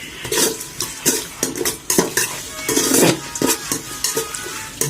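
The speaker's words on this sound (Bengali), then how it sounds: "আমাদের চামচ নাই, এই জন্য আমরা চাকু দিয়ে রান্না করি" Potato bhuna stirred in a pan with a knife instead of a spoon, rhythmic clanks and scrapes of metal against the pan over a light sizzle, up close and fairly loud.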